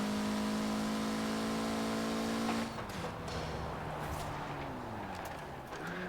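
A stock 1992 Mitsubishi Galant VR-4 in Forza Horizon 4 revs its engine, the tone climbing steadily before dropping off as the throttle lifts, with turbo spool whining and engine pitch rising and falling afterward.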